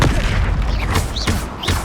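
A Confringo spell blast in the wizarding game Hogwarts Legacy, booming explosive rumbles layered with whooshing spell effects in a loud, continuous flurry of combat.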